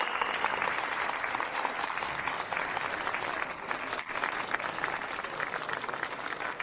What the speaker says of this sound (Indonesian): Mari beri tepuk tangan meriah untuk menyambut pengantin.